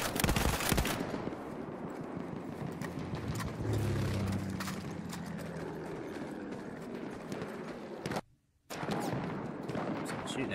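Rapid gunfire from a Lewis gun in Battlefield 1 gameplay, with dense bursts at the start and ongoing battlefield shooting and noise throughout, broken by a short silent gap near the end.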